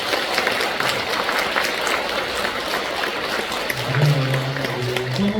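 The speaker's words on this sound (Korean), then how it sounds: "함께 박수 한번 치겠습니다." A church congregation claps together in a cathedral hall during a Bible prayer festival, a steady, dense wash of hands that continues throughout, with a low hum of a voice or sung tone rising near the end.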